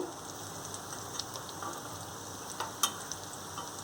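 Stuffed capsicum sizzles and fries steadily in a pan, a constant close crackle with small pops and one sharper spit near the end, no voices.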